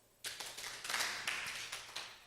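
A church exercise group claps together in a series of light, slightly ragged hand claps that trail off softly, heard at a modest distance.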